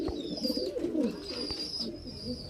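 Highflyer Giribaz and Madrasi pigeons coo softly and continuously in a loft, low throaty murmurs overlapping, with faint background hiss and a thin whistling tone.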